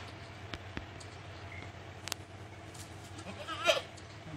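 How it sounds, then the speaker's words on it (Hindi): A goat bleating from a neighbouring field, a faint distant call near the end over quiet rural background with a few soft clicks and knocks earlier. "जो बकरी हमारी बाजू के खेत में वो उसकी आवाज़ है।"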